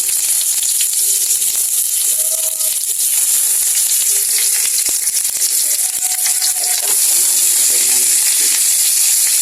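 Kangkong cooking in a hot pan gives a loud, constant hiss and sizzle close up, with faint rattles and a voice murmuring beneath it.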